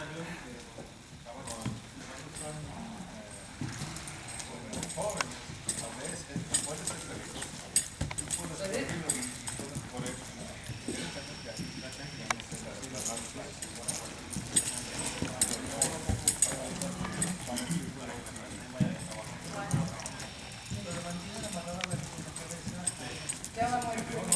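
Hooves of an aged horse doing groundwork on a lunge line thud in an irregular rhythm of soft clip-clops at moderate distance, under near-continuous talk from a clinician.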